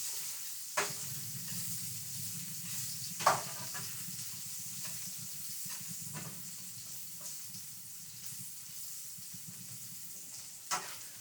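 Carrots frying in a hot pan for escovitch snapper, a steady close sizzle throughout, broken by a few sharp clacks of stirring or utensils against the pan, with no voices.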